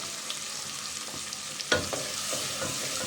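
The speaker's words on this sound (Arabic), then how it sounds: "اول كده ما السمنه والزيت بتوعنا يسخنوا انزل كده ايه بالبصله، اديها تتبيله كده" Onions frying in hot ghee and oil make a steady sizzle with a sharp spoon clack partway through and soft stirring scrapes after it, with no talking.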